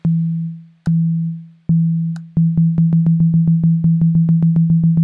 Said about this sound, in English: Grab a sine wave from one of my 9 oscillators.